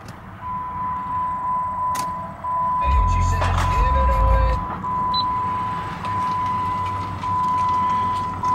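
A 2010 Jeep Grand Cherokee SRT8 with 91,000 miles starts from inside the cabin: a steady warning chime sounds throughout, a loud, brief cranking burst fires up the engine midway, and a low idle rumble continues afterward.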